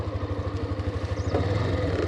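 A Hero Xtreme 125R motorcycle rides offroad in low gear, its engine thumping in a steady close rhythmic pulse that grows slightly louder toward the end.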